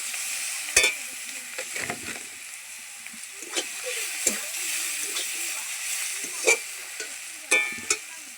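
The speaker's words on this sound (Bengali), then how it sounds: "শাকটা দিয়ে দিব।" Leafy greens tossed into hot oil with fried onions and garlic paste sizzle steadily in a pan, broken by repeated scraping stirs that land as sharp, close clacks every second or so.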